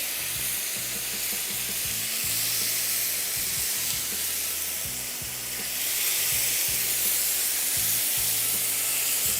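Loud continuous sizzling and hissing as broth is poured into a hot pan, with a burst of bubbling frying and occasional stirring clatter.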